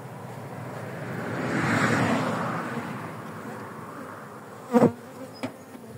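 A honeybee colony hums at a beehive with a steady, close buzz that swells in the middle, followed by a couple of sharp knocks near the end.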